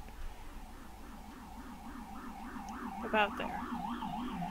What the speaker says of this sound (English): Again with the sirens!